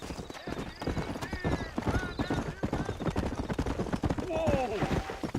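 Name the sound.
horse galloping, clip-clop, in video game Red Dead Redemption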